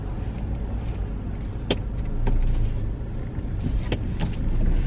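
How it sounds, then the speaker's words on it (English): A car backs slowly out of a parking spot, heard from inside as a steady low engine and road rumble, with a few faint clicks and creaks rising over the hum. "let me back out of this parking spot"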